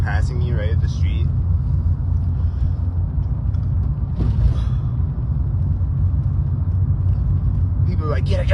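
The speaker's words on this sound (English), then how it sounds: "This car is passing me right at the street." A car passes close by on a street with a steady low engine rumble throughout, heard from the roadside while a person talks over it.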